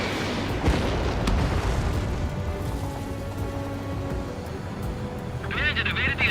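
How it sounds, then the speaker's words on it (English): A missile launches from a fighter jet in the combat flight game Ace Combat 7, a loud roaring whoosh swelling into a sustained rumble over constant engine noise. "Missile away."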